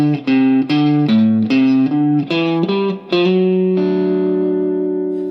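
Slow electric guitar blues lick moving from the 1 chord to the 4 chord, with distorted, effects-laden tone: a series of plucked notes descending the minor blues scale, ending on a sustained ringing note, loud and close.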